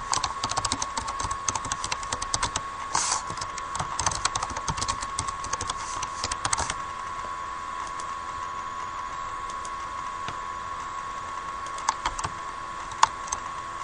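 Keys clatter on a computer keyboard: brisk, dense typing for the first several seconds, then only scattered single clicks over a quiet hum.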